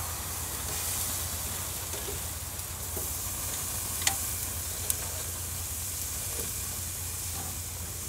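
Beef tenderloin and vegetables sizzling on a grill, a steady close hiss of frying that runs throughout, broken only by a couple of faint ticks and pops; no talking.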